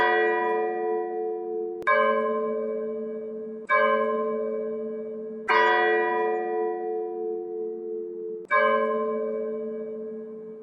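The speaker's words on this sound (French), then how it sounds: "C'est une sonnerie lente, par tintement de la cloche la plus grave" A deep church bell, the lowest-pitched in its tower, tolls a slow death knell, five strikes roughly two seconds apart, each ringing out and decaying before the next, with nothing else heard.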